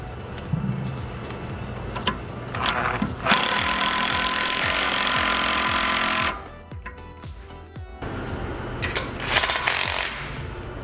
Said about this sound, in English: Now we need to get the nut there and get this one tight while I'm still holding it